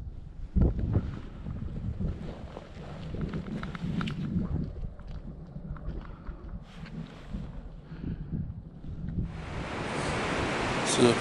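Strong wind buffets the microphone outdoors during a rifle hunt, a low rumbling roar throughout that swells into a loud, hissing gust near the end; no voice is heard.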